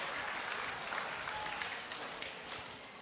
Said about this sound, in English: Give Dr. Franklin a round of applause